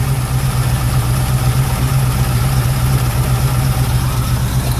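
A 1962 Willys FC150 pickup with a 327 V8 and an RV cam idles steadily nearby, a loud, continuous low rumble with an even lope and no voices over it.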